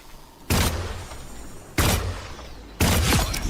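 Black Widow's piercing shot in the hero shooter Marvel Rivals, three loud sharp rifle blasts spaced about a second apart, each with a brief ringing tail over a faint game background.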